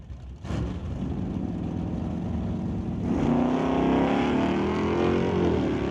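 A 1966 Plymouth and a 1971 Chevelle drag race down a quarter-mile strip, a loud sustained engine roar that swells as both cars pull hard and keep accelerating, steady and close.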